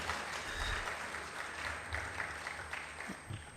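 Audience applause for discussion groups at a policy dialogue, a soft, continuous patter of many hands clapping, faint and steady with a few louder bumps.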